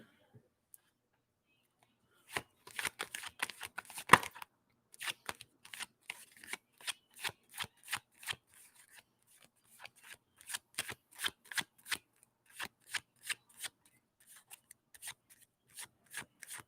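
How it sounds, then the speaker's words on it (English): Tarot cards are shuffled and drawn by hand, with quiet, close riffling and rubbing in quick clustered bursts after a silent start, steady soft slaps and slides of the cards, and no voice. "So I'm gonna pull two more cards"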